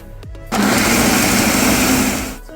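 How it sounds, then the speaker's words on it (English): A blender whirs loudly and steadily for about two seconds as it purées groundnut stew ingredients with a cup of water and red bell pepper, starting abruptly and then winding down. "So pour this on and just blend."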